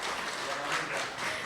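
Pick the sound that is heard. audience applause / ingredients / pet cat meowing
audience applause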